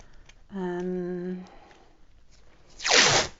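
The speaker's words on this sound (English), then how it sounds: "I'll use the masking tape across there at the bottom" Masking tape is torn off the roll in a short, loud ripping pull near the end, preceded by a brief tonal hum and a few small handling clicks close by.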